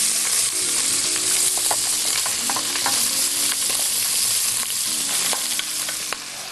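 Minced meat fries in oil and butter, crackling and sizzling loudly and steadily while a utensil stirs and scrapes it in irregular bursts, with no voices.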